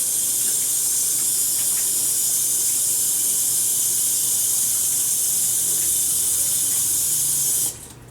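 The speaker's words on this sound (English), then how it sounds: "let me wash my hands here" Hands are washed under a running kitchen tap, a steady close hiss of spraying water that stops abruptly near the end.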